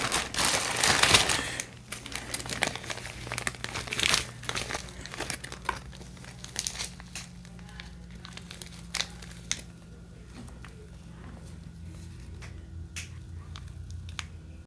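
A crinkly mail bag is rummaged through at close range, with a loud burst of crumpling at first, then lighter intermittent crinkles and taps that continue at a lower level.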